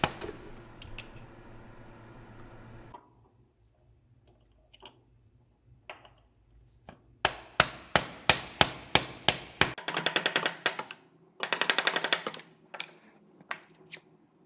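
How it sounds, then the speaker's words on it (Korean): A hammer taps a damper pulley onto a car engine's crankshaft through a drift, a run of sharp, close metallic knocks in quick rhythm, some clustered in rapid bursts, with no talk. "망치로 이렇게 쳐주시고요."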